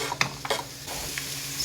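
Onions fry in olive oil in a pan, a close, steady sizzle broken by a few clicks and scrapes of stirring, with no one speaking.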